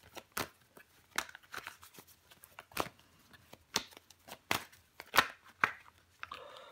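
Tarot cards laid out and handled on a table, a series of short crisp snaps and slides spaced irregularly across the clip, close and moderately loud.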